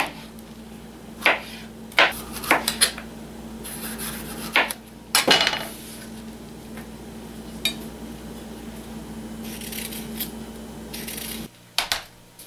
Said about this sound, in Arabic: قطعت البصل كله وبعد كده اقطع الفلفل.